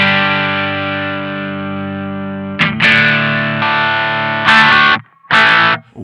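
Electric guitar overdriven through a Two Notes ReVolt boost: a loud, sustained distorted chord rings out, then choppy, gritty strummed bursts with short gaps between them, close and harsh.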